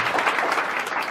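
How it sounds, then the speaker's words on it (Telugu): Worshippers in a church congregation clap loudly in a brief, dense burst of many hands, steady and close throughout. "గట్టిగా ఒకసారి చప్పట్లు కొడతాం దేవుని."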